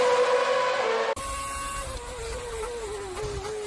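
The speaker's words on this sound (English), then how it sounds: "which is a V8 engine, much better than the actual V6 turbo engines" Loud Formula 1 V8 engine screaming through a hot lap at Fiorano, a sustained high-pitched wail that cuts in abruptly and holds steady with small pitch dips through gear changes.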